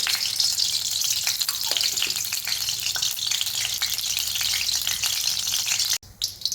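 About three spoons of oil in a hot kadhai for chicken khichada: a dense, loud frying sizzle with light stirring clatter, steady throughout, then an abrupt cut near the end followed by a brief quieter hiss.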